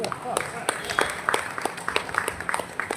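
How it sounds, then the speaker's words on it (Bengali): An audience at a poetry recitation and music tribute event claps in scattered, uneven applause, the individual claps fairly close and crisp, with speech running underneath. "আমি সবাই আমাদের নিজেদের জন্য একটা হাততালি দিতে বলবো"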